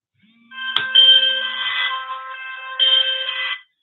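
A phone ringing with an electronic ringtone: a brief low tone, a sharp click, then a loud, steady, close chiming melody that holds for a couple of seconds, pauses briefly and swells again before stopping.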